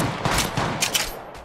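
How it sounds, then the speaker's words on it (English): Rapid automatic gunfire in the mobile shooter Apex Legends, a dense run of close, sharp shots with several louder bursts standing out near the end, no talk over it. "Shots fired at me."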